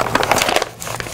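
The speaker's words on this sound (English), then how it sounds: "bend these flaps into the book and fold this one in" Paper flaps of a craft book cover being bent and folded in, a close crinkling and crumpling rustle that runs steadily, then softens into lighter scattered crackles.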